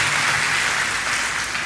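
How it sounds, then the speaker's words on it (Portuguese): Congregation applauding inside a church during an evening service, a dense steady wash of many hands clapping close and loud throughout, with no voices over it. "Aplauda o Senhor mais uma vez"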